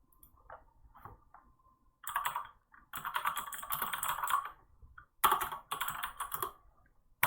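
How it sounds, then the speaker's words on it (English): A computer keyboard being typed on at a desk, bursts of rapid, close clattering keystrokes separated by brief quiet gaps, loud and crisp with no speech over it. "you can still hear my blasted keyboard"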